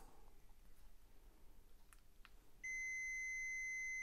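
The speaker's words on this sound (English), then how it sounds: "hopefully the multimeter there will ring" A multimeter gives a steady, clear continuity beep that begins partway through and holds to the end after faint clicks, while a VW Mk2 Citystromer's lithium battery BMS is being activated.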